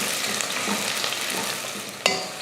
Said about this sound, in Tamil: இதை வதக்கிடலாம்.